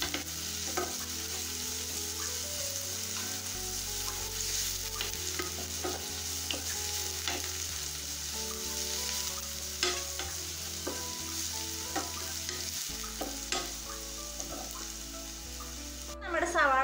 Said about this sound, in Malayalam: ഒരു മീഡിയം ഫ്ലെയിമിൽ ഇട്ടിട്ട് വേണം വഴറ്റിയെടുക്കാൻ.